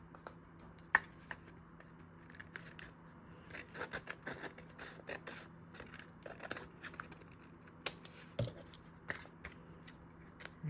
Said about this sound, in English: Cut this little piece off right here.